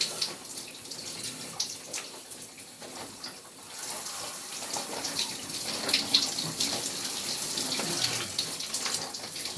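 Cold shower water runs steadily, a continuous close splashing hiss of falling water with small fluctuations and no speech.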